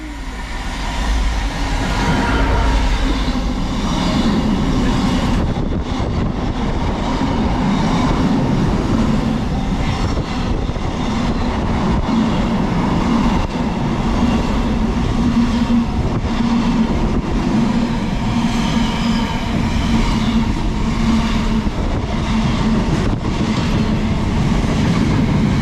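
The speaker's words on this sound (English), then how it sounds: "We've got some freight coming through." Freight train passing through a railway station between Oxford and Reading, a loud continuous rumble with rhythmic wheel clatter on the rails sustained throughout, close by.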